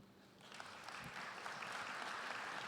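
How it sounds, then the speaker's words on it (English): Audience applauding a guest speaker at a medical education panel, a steady wash of clapping that swells in after a brief quiet start and holds loud and dense to the end. "A round of applause for Kim."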